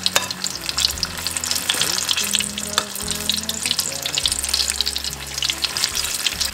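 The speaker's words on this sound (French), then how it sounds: "faire frire les beignets à feu vif" Rice, tomato and shrimp fritters frying in very hot oil over high heat, giving a dense, continuous bubbling sizzle with rapid crackles throughout, close and loud with a faint underlying hum.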